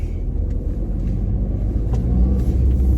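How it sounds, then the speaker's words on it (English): A Ford Fiesta's engine runs with a low, steady rumble from inside the car during a drive, and any turbo sound is barely noticeable over it. "It doesn't even sound like it's got a turbo on it, like, it's just weird."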